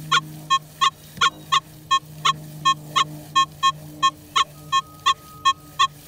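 Nokta Legend metal detector sounding a low tone on a deep target at the fringe of detection, a run of short, evenly spaced beeps repeating roughly three times a second over a faint steady hum.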